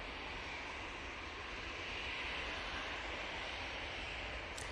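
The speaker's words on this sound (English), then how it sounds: "we've got the Aer Lingus going back to Dublin now" An Aer Lingus airliner departing Manchester Airport for Dublin, its engines a steady, broad roar that holds even and fairly loud throughout, with no voices over it.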